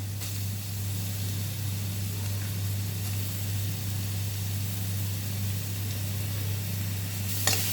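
Beetroot sautéing in a pan while cooking noodles, a steady close sizzle and hiss running throughout under a constant low hum, with a brief clatter of stirring near the end.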